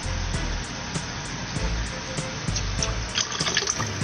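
Two and a half gallons of collected rainwater poured into a tub make a steady, close gush of splashing water that runs continuously without pause.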